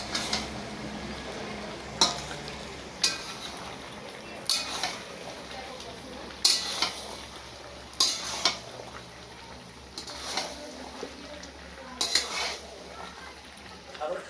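Meat frying in a pot during a home birthday cooking session gives a soft, steady sizzle, broken about every two seconds by a sharp scrape or clink of a spoon against the pot, close and moderately quiet.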